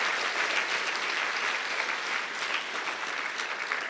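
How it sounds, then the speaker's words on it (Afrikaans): An audience at a school blazer ceremony applauds a minister, producing a dense, even wash of many hands clapping that holds steady from start to finish. "Kom ons klap vir hom, baie,"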